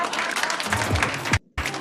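A studio audience applauds in a brief burst of dense clapping, mixed with some voices, that cuts off abruptly and then resumes.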